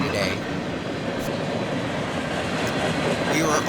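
A Norfolk Southern freight train rolls past near Columbus, a loud, steady rumble of wheels and cars with faint rhythmic clacks and occasional brief squeals, close by throughout.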